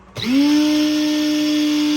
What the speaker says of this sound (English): when I put it in the grinder, this came out a lot better. Hit the button.